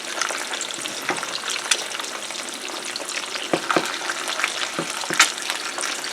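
Eggs fry in a pan with a steady, close sizzle and crackle, and small pops scatter through it. No voices are heard.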